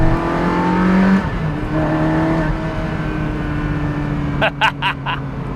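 A Ferrari 360 Spider's high-revving V8 holds a loud, steady tone that shifts pitch, heard from close range with a few sharp bursts near the end.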